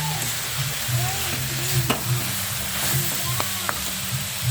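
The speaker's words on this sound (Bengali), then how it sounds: "গুড় না দিয়েও চিনি দিয়ে এরকম লাল করে নারকেলটাকে ভাজা যায়।" Grated coconut frying in a pan with sugar, cooked until browned, gives a steady close sizzle with stirring scrapes and occasional short clinks throughout, with no talking.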